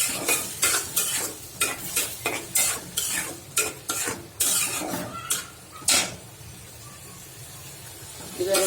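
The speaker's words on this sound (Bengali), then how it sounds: "এবার এটাকে আমি বেড়ে ছেড়ে কতক্ষণ কষাবো ডালটাকে" Dal being sautéed and stirred with salt, turmeric and spices in a pan for dal bhuna: repeated close scraping stir strokes over a steady sizzle, then the stirring stops and quieter frying continues alone.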